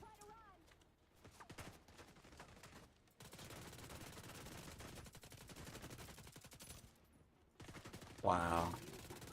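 Gunfire in the shooter Division 2: sustained bursts of rapid automatic shots over several seconds with brief pauses, and a voice speaking partway through.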